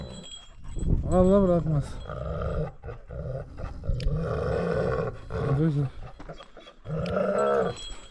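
Dog in a mountain village whimpering and growling, rising whiny vocal bursts interleaved with someone speaking nearby.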